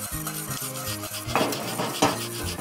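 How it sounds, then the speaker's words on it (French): A whisk stirs quick-cook polenta in a saucepan, steady scraping and rubbing strokes with a couple of louder swishes, close and alone. "je remue avec un fouet de façon à ne pas former de grumeaux"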